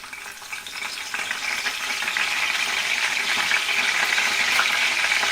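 Curry leaves crackle and spit in hot oil in a kadai, a close, bright sizzle that grows louder and stays steady.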